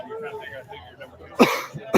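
Two sharp, harsh coughs from a person near the microphone, the first at mid-clip and the second near the end, following a stretch of soft talk-like sound.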